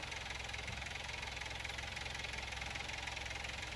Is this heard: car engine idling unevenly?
yes